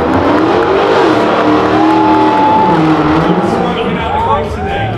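A Dodge Hellcat makes a loud entrance, its engine revving hard and roaring steadily close by with rising and falling pitch, and a crowd is faintly audible in the background.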